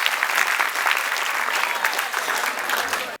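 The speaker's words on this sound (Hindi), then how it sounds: "सो एक बार जोरदार ताली हो जाए" Loud, dense clapping from an audience at a preschool celebration, a sustained wash of many hands that holds strong before cutting off abruptly at the end.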